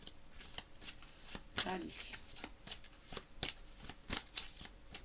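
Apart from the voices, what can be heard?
shuffling a deck of tarot cards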